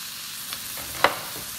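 Thinly chopped onions fry in a pan over medium heat, a steady close sizzle with a couple of brief clicks from stirring.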